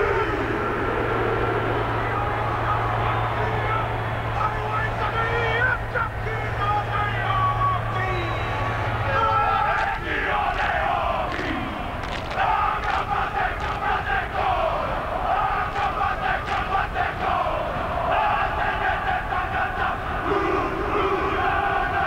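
The New Zealand rugby team performs the haka before a Bledisloe Cup test against Australia, with loud rhythmic chanting and shouted cries over a roaring stadium crowd, carried through at a distance across the whole stretch.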